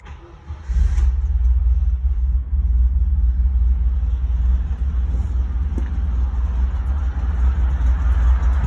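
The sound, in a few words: 1963 Volkswagen Combi T1 engine starting and idling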